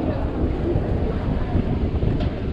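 Wind buffets the microphone at the bow of a passenger boat heading to Koh Larn island off Pattaya, a steady loud roar mixed with engine and water noise.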